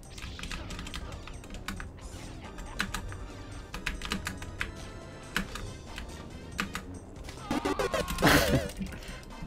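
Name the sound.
computer keyboard keys pressed while playing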